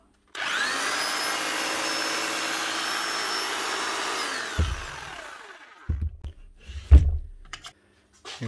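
Bosch GBH 5-38 D rotary hammer motor running free, a steady high whine for about four seconds that spins down, followed by a few clunks and knocks of handling.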